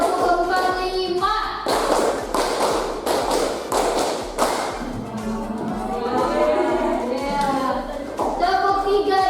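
A class of children claps in unison, a run of about six sharp group claps early on, then a later burst, with the teacher and children speaking in between.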